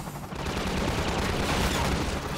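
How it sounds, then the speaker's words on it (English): A helicopter gunship in Half-Life 2 fires a sustained, loud barrage of rapid gunfire at a hospital roof, dense and continuous for a couple of seconds with no talking. "we're supposed to let the gunship shoot out the roof a little bit"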